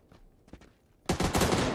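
Close, loud burst of rapid gunfire in PUBG, a dense rattle of shots filling the last second after a quieter stretch of faint movement.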